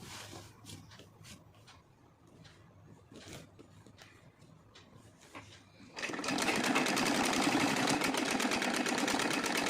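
An electric sewing machine stitching old heavy silk saree fabric: soft handling taps and rustles first, then the motor kicks in abruptly and runs loud and steady with a fast, even rattle to the end.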